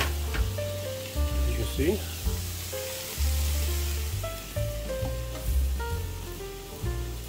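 Vegetables stir fried in a pan alongside teriyaki salmon give a steady sizzling hiss beneath continuous background music, with someone talking briefly over it.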